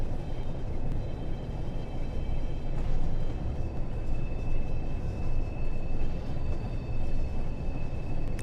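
A train rumbles into Crewe station on the Preston–Crewe line in a train simulator, a heavy continuous low rolling drone with a faint steady tone above, close and even throughout.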